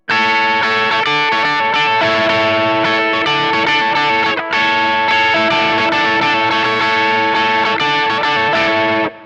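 Distorted electric guitar strumming chords, loud and dense with chorus-like shimmer, one brief gap midway before the chords resume, no voices.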